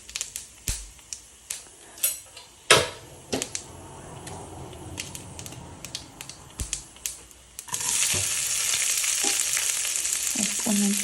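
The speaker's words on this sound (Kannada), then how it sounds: "ಒಗ್ಗರಣೆಗೆ ಸಿಂಪಲಾಗಿ ಸ್ವಲ್ಪ ಎಣ್ಣೆ ಬಿಟ್ಟು ಅದಕ್ಕೆ ಸಾಸಿವೆ, ಜೀರಿಗೆ ಮತ್ತು ಸ್ವಲ್ಪ ಈರುಳ್ಳಿನ ಒಗ್ಗರಣೆಗೆ ಹಾಕ್ತಾಯಿದ್ದೀನಿ" Mustard seeds, cumin and onion are fried in hot oil for a tempering. Sharp pops and spoon taps punctuate a soft sizzle, then a loud, continuous hiss takes over near the end.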